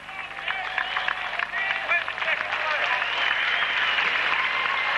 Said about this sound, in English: Kev Hurst, give him a nice round of applause in the van race.